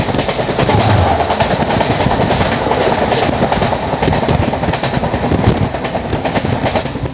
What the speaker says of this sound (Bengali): সামনে থেকে আসছে 15463 শিলিগুড়ি ইন্টারসিটি এক্সপ্রেস।